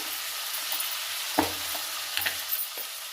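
Brinjal and onion masala is stirred in a frying pan, a soft steady sizzle under a few scraping strokes of the spoon against the pan, close by, with no talking.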